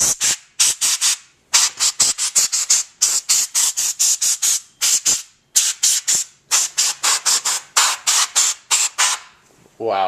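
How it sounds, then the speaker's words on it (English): Compressed air blasts dust out of a Panasonic FZ-10 3DO console in a long series of loud, close, sharp hissing spray bursts, some short and rapid, others longer, separated by brief gaps. "take some compressed air and just spray it in there and get as much dust out of the system"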